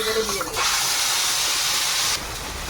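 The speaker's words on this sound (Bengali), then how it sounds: "তেলের মধ্যে সামান্য একটু কালো জিরে দিলাম" Nigella seeds (kalo jeere) hit hot oil in a Bengali kitchen, giving a loud, steady hissing sizzle that swells after a brief start and holds for a couple of seconds before easing slightly.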